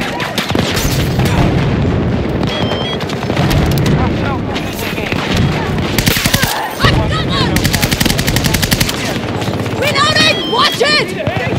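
AKS-74U gunfire in Battlefield 2042 comes as loud, close automatic bursts with booms and explosions around them, firing in repeated rapid volleys amid chaotic game noise and some voices.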